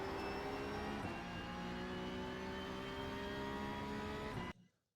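Porsche 992.2 Cup car in the iRacing sim accelerating hard in third gear at Spa, a loud, steady, rising engine note that runs without a break, then cuts off sharply near the end.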